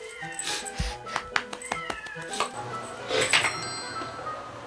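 Several stray cats meowing close by indoors, with short overlapping calls and a drawn-out yowl, plus a faint clink in the background.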